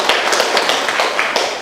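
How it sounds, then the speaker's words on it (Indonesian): Children in a classroom clap for a classmate, a brief burst of scattered, uneven hand claps close by with no talking. "beri tepuk tangan untuk temannya."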